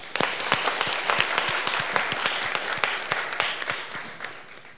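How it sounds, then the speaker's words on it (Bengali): An audience at a shadow parliament debate on labor rights in Bangladesh applauds a guest secretary with steady, dense clapping from many hands that holds at an even level from start to finish, with no speech on top. "আমরা আমাদের সম্মানিত সচিব জনাব এইচ এম শফিকুজ্জামান স্যারকে সবাই জোরে তালি দিয়ে অভিনন্দন জানাই"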